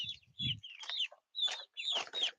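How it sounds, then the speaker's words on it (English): Chickens in a farmyard, just fed in the morning, cluck and squawk in short bursts with a few pauses between them, close and fairly loud with no talking. "Somebody fed the chickens this morning."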